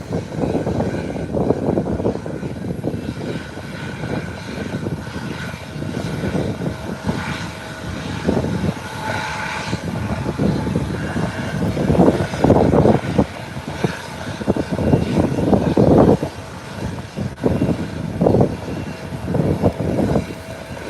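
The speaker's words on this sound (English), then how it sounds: "the Embraer 120 has made a 180 and will be making a short takeoff" An Embraer 120 turboprop airliner makes a short takeoff, its engines droning loud and steady with surging swells as it powers down the runway, heard alone with no talking.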